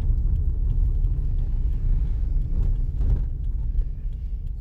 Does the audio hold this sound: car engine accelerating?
yes